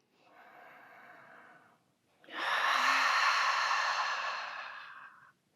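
Slow, deep breathing during a power yoga practice: a soft, steady exhale, a short pause, then a longer, louder breath out that trails away. No talking.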